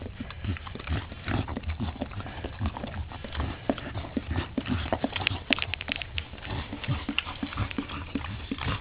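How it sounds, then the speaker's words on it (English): A mother dog licks her newborn first puppy clean just after birth, giving close, wet, repeated licking and sniffing sounds in an irregular rhythm, with no talking. "Cleaning the puppy."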